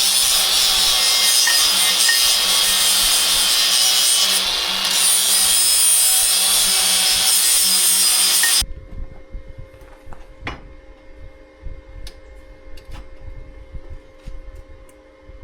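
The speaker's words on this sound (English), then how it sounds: "cut this lip off of here so this tubing will fit in here the right way" A cutting tool grinds loudly and continuously through a lip of steel tubing for a Lexus GX470 tube bumper, then stops abruptly, leaving quieter scraping and clanking of metal being handled.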